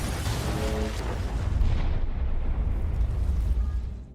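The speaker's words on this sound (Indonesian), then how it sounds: "Area itu meledak, menewaskan semua anggota komunitas." A loud, sustained explosion in a film scene where an area blows up, a deep rumbling blast roaring continuously for several seconds and slowly tapering at the end.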